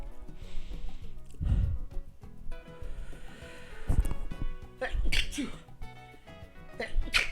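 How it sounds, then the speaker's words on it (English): A person sneezes indoors, a sharp burst standing out among several short bursty vocal sounds and background noise over a few seconds, near the microphone. "I'm gonna sneeze"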